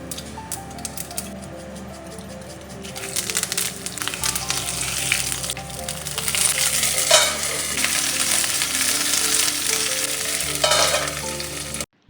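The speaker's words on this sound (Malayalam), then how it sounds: "കടുകൊക്കെ വറുത്തിട്ട് ഒഴിച്ച് കൊടുത്തിട്ടുണ്ട്" Mustard seeds fry in hot oil for tempering sambar, crackling and sizzling in a busy continuous patter that grows louder partway through, with no talk.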